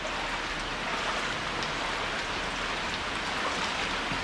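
Heavy, non-stop rain falls during a Sesa river flood in Assam, a dense, even roar of drops on surfaces with no pauses, loud and close throughout.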